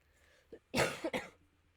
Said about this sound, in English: I don't mean to have a cough, and it doesn't mean to sneak up on me